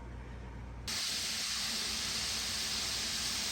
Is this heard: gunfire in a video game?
no